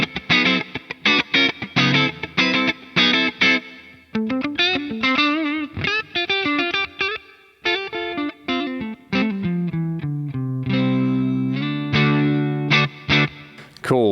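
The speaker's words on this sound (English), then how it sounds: "Maybe I'll try a plate." Electric guitar played through an Atomic Amplifire 6 modeler with plate reverb, ringing out alone as a run of plucked notes, chords and sustained phrases with a smooth, reverberant tail.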